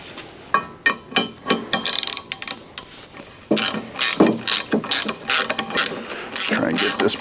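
A ratchet works a bolt loose from a 1983 Chevrolet K10 350 engine during teardown: bursts of close, loud ratcheting clicks, some short and some sustained, separated by brief pauses and small metallic clinks.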